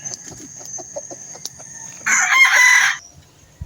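A young stag rooster crows loudly and close on a farm in the morning, one strained cock-a-doodle-doo lasting about a second, preceded by soft clucks and scattered bird chirps.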